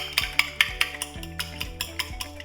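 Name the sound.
whisking egg, milk, vanilla and cinnamon mixture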